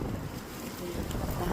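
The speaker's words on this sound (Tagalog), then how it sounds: "Hangin." Wind blusters steadily against the microphone outdoors among flowers, a continuous rumbling roar with no pauses.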